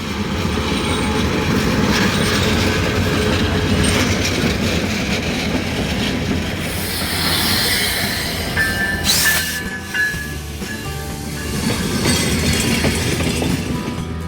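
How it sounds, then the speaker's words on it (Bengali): The Dhumketu Express, a Bangladesh Railway intercity passenger train, rumbles steadily past up close, wheels clattering on the rails with occasional metallic squeals and a sharp screech. "ধূমকেতু এক্সপ্রেস বাংলাদেশ রেলওয়ে পরিচালিত আন্তনগর ট্রেন"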